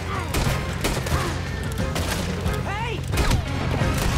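Rapid bursts of gunfire in Red Dead Redemption 2 crackle through a busy, dense mix, with sharp repeated shots over a constant low rumble and some faint voices.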